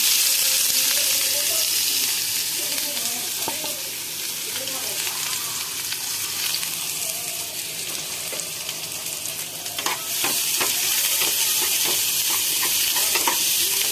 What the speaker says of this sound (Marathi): तेल गरम झालेलं आहे. त्यात कांदा टाकूया.